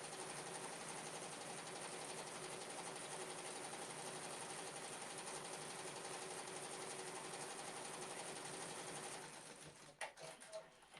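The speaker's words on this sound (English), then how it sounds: "now I will let you see the stitching process as it finishes up" A home embroidery machine stitching a flower design on a fabric bookmark gives a rapid, steady whirring buzz with a constant needle pulse, heard up close before winding down and stopping with a few soft clunks.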